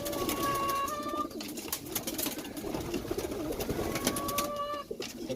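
Pigeons coo nearby in a loft where young birds are being given a pox vaccine, soft repeated calls over a murmur of background bird noise.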